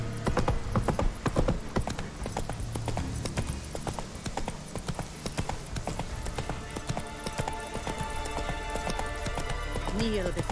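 Hooves of the horse Roach in The Witcher 3 drum a rapid, steady galloping clip-clop throughout, close and loud over an ambient game soundscape, with a brief whinny near the end.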